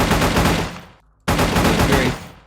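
An RPK 16 machine gun fires in 7 Days to Die: two loud, close bursts of rapid automatic shots separated by a short pause, each fading as it ends.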